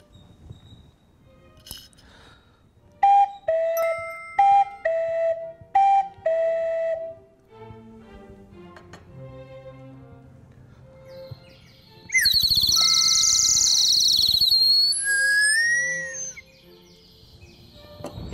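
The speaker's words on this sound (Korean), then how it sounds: "뻐꾸기와 나이팅게일이라는 새 소리예요." Toy bird whistles play at a symphony orchestra performance: a two-note cuckoo call repeated several times, then a burst of warbling, trilling nightingale whistling, loud and close.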